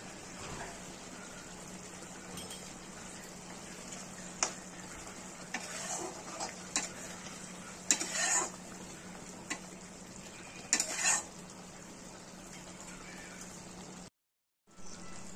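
Khirod Katla fish curry simmers in a pan with a soft, low bubbling and faint sizzle, punctuated by a few light clinks and stirs, then a brief silent gap.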